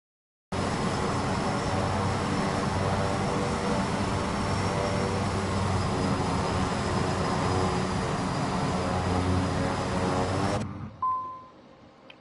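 A simulated light airplane's engine spools up and roars steadily for takeoff power on runway 25, loud and continuous with a faint high whine, then cuts off abruptly near the end, leaving a brief beep.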